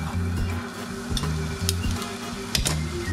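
Torta frita dough sizzles steadily in hot oil, a close, continuous frying crackle punctuated by a few sharp clinks and scrapes of a utensil in the pan, with no voices.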